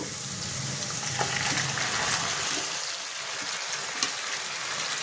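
Tengra fish sautéing in a curry in a pan gives a steady, close sizzle that crackles and hisses without a break, with faint stirring scrapes and no voices.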